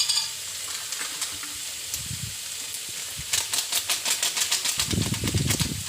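Cumin, chilli and coriander powders hit hot oil with a close sizzle. Stirring starts light, then becomes a fast, rhythmic run of spatula scrapes against the pan.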